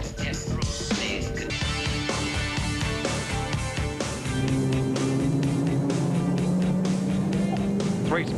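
A BMW M3 E30 Sport Evo DTM race car screams along the bumpy Cable Street section of a street circuit at the Wellington Nissan Mobil 500, engine droning and shifting pitch over a commentator's voice and crowd noise.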